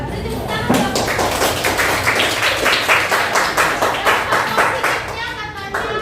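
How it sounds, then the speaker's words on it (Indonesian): A group in a classroom teaching session claps in a quick, fairly rhythmic burst. The sharp hand claps sound close and loud and continue for several seconds, with voices mixed in underneath. "Tepuk tangan."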